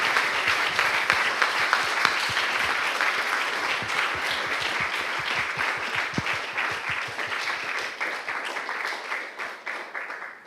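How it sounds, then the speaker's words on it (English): Sustained audience applause at a keynote talk, dense and even, fading slightly toward the end after about ten seconds of clapping. "we can give another big round of applause for Michel."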